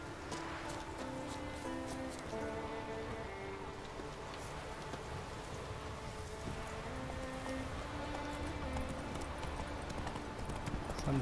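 Hooves clip-clop at a steady galloping pace from a horse in The Witcher 3 video game, fairly faint and continuous, with a patter like rain in the background.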